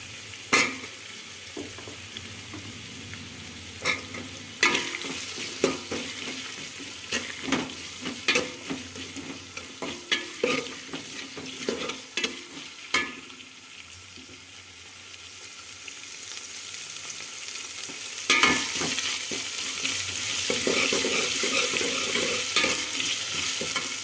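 Onions frying in a pan for tomato rice, a continuous sizzle broken by frequent scraping stirs of a spoon against the pan, close and steady, with no talking.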